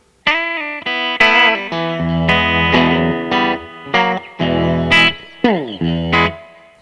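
An electric guitar, a G.E. Smith Fender Telecaster, plays a run of distorted notes and chords with a wet, echoing spring reverb tail, loud and close.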